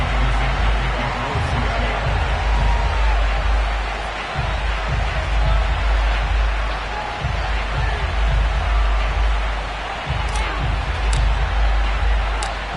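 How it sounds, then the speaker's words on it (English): A Madden 22 football video game crowd fills a stadium before a matchup with the Seattle Seahawks, a dense, steady roar of cheering that holds at high volume throughout with low rumbling beneath. "This crowd is ready as their guys get set to match up with the Seattle Seahawks."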